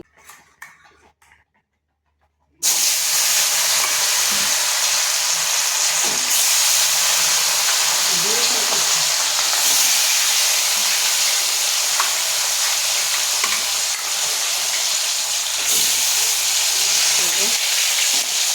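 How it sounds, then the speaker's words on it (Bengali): Fish frying in a pan in a home kitchen: after a brief quiet start, a loud, steady sizzling hiss sets in and runs on without a break for about sixteen seconds. "মাছটা ভেজে নেব ভালো করে।"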